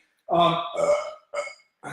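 A person burping loudly up close, one long drawn-out belch followed by two shorter bursts, with silence between them.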